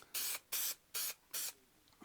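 Four short, sharp hisses of an aerosol contact adhesive can spraying in even bursts with brief pauses between, close by and otherwise quiet.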